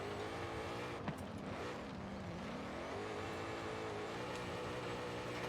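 A car drifting in Forza Horizon 5, engine droning steadily with pitch sweeping down and back up as the revs shift, plus a brief sharp click, continuous and fairly close with no talk.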